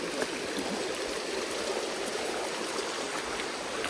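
Clean water of a stream flowing in a dense forest, a steady close rushing and gurgling that continues without a break and with no voices.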